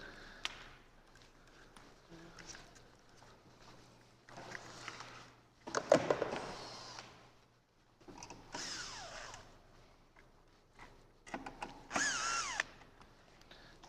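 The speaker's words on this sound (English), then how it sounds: "get in here with the drill and unscrew them" A power drill unscrews pieces of an HO slot car dragstrip in short separate bursts of whirring, quiet and close, with faint handling noises between the bursts.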